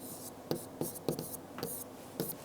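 Handwriting at a desk: several short pen-on-paper scratches and strokes come in quick irregular bursts, close and fairly soft, with no voice over them.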